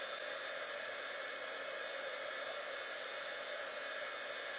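A heat tool blows steadily to melt embossing powder during heat embossing, producing a constant, even hair-dryer-like whoosh throughout with no talking.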